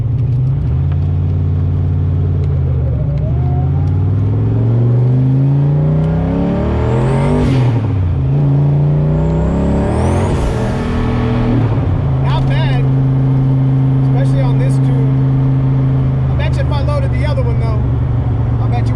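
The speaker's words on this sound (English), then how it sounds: "Can't believe this old turbo still works" A car engine fitted with an old rusty journal-bearing turbo revs loudly several times, pitch rising and falling between revs, with steady engine drone and someone talking over it.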